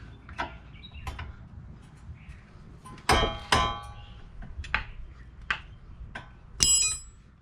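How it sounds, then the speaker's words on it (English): A nut on a car steering tie rod is worked loose with metal tools, giving a series of sharp metallic clanks and ringing taps, spaced irregularly and close by, without talk. "So I'm going to be removing this nut."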